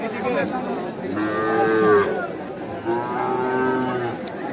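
Cattle low twice at a busy livestock market selling bull calves, two long drawn-out moos close by over a murmuring background.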